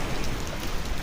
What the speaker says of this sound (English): when did it start raining down like this?